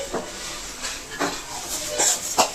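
Steady hiss of water boiling in a pot for moong dal payasam, with light bubbling and a few faint clinks of cookware over the continuous rush.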